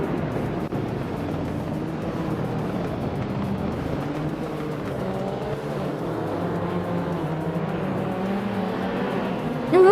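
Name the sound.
race cars driving during a race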